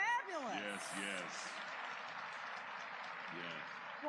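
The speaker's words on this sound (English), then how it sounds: "Can you give them a better applause than that?" Applause from a live New Year's Eve crowd, a steady wash of clapping and cheering that stays loud throughout, with a few voices and shouts rising above it.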